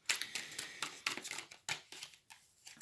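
A tarot card deck is shuffled, producing quick papery riffles and flutters in irregular bursts, close and fairly quiet, with no talking.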